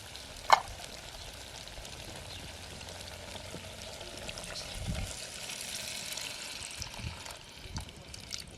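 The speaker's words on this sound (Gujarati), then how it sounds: "હવે આપણે પાણી નાખી દઈએ." Sizzling and gentle pouring noises from a hot pan of potato curry with chilli, water hissing as it goes in. A sharp clink comes near the start, and no one talks.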